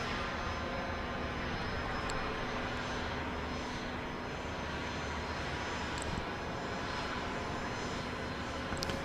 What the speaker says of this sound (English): This is a NetJets Bombardier Challenger 650.